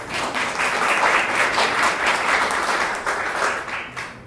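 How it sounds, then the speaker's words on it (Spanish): An audience applauds a host association at a scientific talk, a dense sustained clapping that swells and holds for about four seconds before tapering off at the end. "le pido un fuerte aplauso, por favor"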